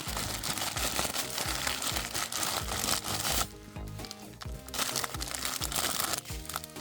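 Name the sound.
plastic bag crinkling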